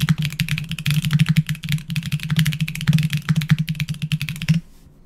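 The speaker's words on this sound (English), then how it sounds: "That felt like really strong typing there. That was fast." Rapid, forceful typing on a computer keyboard produces a dense, continuous stream of close key clicks that stops abruptly just before the end.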